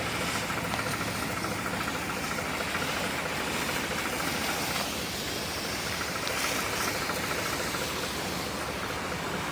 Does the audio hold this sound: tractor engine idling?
yes